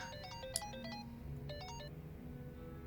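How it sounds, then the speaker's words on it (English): A mobile phone ringtone plays in Like a Dragon: Infinite Wealth: a short, bright melodic phrase of quick electronic notes, repeated twice at a moderate level with no talking. "She needs a better ringtone."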